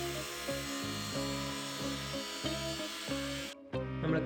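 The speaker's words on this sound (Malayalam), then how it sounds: "നമ്മുടെ ബാറ്ററി എലിമിനേറ്ററിന്റെ ഫ്രെയിമിന് വേണ്ടി റിസീവറിൽ നിന്ന് തന്നെ ഭാഗങ്ങൾ കട്ട് ചെയ്തെടുക്കുന്നു." A power tool cuts parts out of a broken radio receiver for a battery eliminator frame, whining steadily with a repeating rhythmic pulse before a brief pause and restart near the end.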